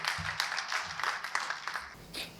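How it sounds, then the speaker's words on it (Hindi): An audience claps loudly to welcome Governor Haribhau Bagde at a memorial gathering, a dense, steady burst of applause filling the whole short stretch. "जोरदार तालियों के साथ में अभिनंदन और स्वागत"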